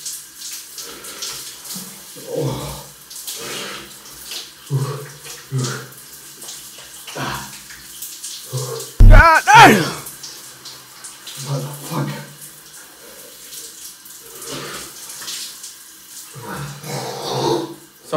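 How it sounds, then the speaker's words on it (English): Cold water from a shower runs steadily as someone talks over it nearby, with a brief louder splash-like burst midway. "Every single morning, the first thing, go under the cold shower."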